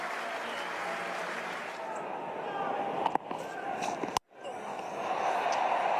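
A cricket crowd at an Australia versus New Zealand one-day international applauds Martin Guptill's half century, sustained clapping and cheering that briefly drops out before swelling again, with a commentator talking over it.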